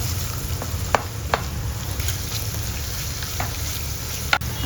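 Chopped garlic and onion sizzle steadily in a hot pan for fried rice, a continuous crackling fry broken by a few sharp spatula taps and clicks, fairly close with no talking.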